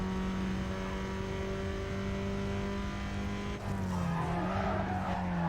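Tires skid and squeal in the Need for Speed: Carbon racing game, a steady loud engine drone with a shifting screech near the end, no talk.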